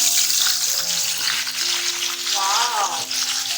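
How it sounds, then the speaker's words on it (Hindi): Masala-coated cauliflower frying in hot oil, a loud continuous bubbling sizzle close up, with a faint voice and brief background tones underneath. "अब इसी ऑयल में हमने गोभी को मसाला लगा कर रखा था, वो हम ऑयल के अंदर फ्राई करेंगे"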